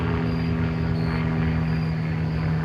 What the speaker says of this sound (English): There is a plane flying above me right now.